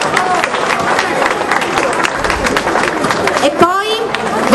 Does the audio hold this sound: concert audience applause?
yes